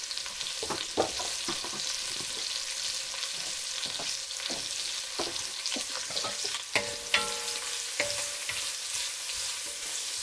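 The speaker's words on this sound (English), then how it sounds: "I'm giving it a bit of a stir to break up the onion slices" Onion slices sizzle steadily in a frying pan while a utensil stirs them, scraping and clattering in irregular bursts close by, with no voices.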